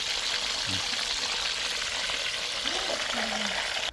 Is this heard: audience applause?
no